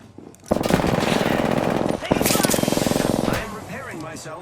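Sustained automatic weapon fire in the video game Apex Legends, a loud rapid stream of shots with a short break near the middle, followed by mixed game effects.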